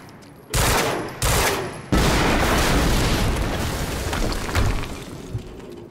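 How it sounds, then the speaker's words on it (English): Explosions go off in the action video game Quantum Break: three heavy booming blasts land in quick succession, followed by a sustained loud crackling rumble of debris and gunfire-like bursts. "we just heard an explosion near the harvesting perimeter"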